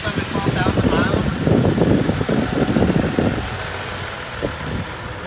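A used 2017 Toyota Tacoma pickup with just under 12,000 miles idles steadily up close with a low, even engine rumble, while a voice talks over the first part.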